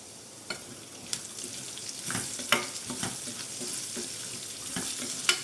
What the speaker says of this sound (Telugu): ఇలా ఆనియన్ కూడా కొంచెం గోల్డెన్ బ్రౌన్ కలర్ వచ్చాక ఫ్రై అయిపోయింది కదా.